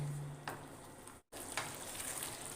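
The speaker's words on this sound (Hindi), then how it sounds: "ये मसाला हमने अच्छी तरह भून लेना है।" Masala gravy for chicken kofta curry frying in a pan, a steady soft sizzle with a couple of light stirring scrapes, briefly cut to silence midway before resuming.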